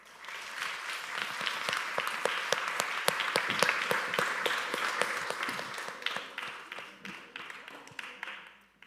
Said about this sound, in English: Give our speakers a round of applause.